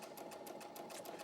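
Sewing machine stitching a quilt border, a steady fast run of rhythmic needle clatter over a constant motor hum, quiet and continuous with no talk.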